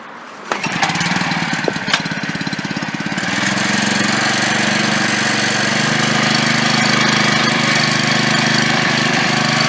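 Gas-powered bed edger engine pull-started and running, its small motor sputtering and firing unevenly at first, then settling into a loud, steady drone close by.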